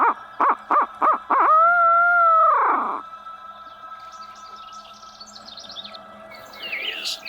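A bird in the woods gives several quick clipped notes followed by a long drawn-out descending call, heard clearly and alone, with faint chirps from other birds after.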